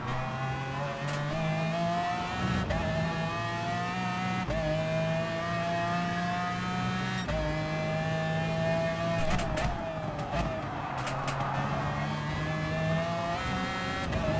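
Race car engines in Gran Turismo Sport, racing a Supra, hold a loud, continuous high-revving drone, with pitch climbing and dropping across several gear shifts, close and unbroken throughout.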